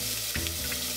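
Hot olive oil sizzles steadily in a pan, a loud continuous frying hiss with a brief crackling burst partway through, and no talking.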